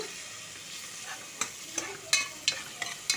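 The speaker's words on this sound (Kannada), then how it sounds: "ನೋಡಿ ಫ್ರೈ ಆಗ್ತಿದೆ ಈಗ ನೋಡಿ ಸ್ವಲ್ಪ ಫ್ರೈ ಆಗಿದೆ" Onion frying with whole spices in a pressure cooker, a bright continuous sizzle with a string of sharp scraping stirs growing more frequent toward the end, close and fairly loud.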